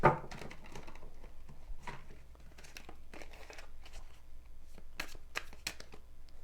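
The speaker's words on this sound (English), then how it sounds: "I'm going to give this a bit of a shuffle." Tarot cards are shuffled close up, with a soft ongoing riffling and flicking, punctuated by sharper snaps.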